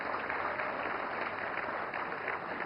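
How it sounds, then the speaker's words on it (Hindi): Applause at a national film awards ceremony for the film Gulmohar, a steady even wash of clapping from a large hall audience, moderately faint and continuous without talk. "तालियां"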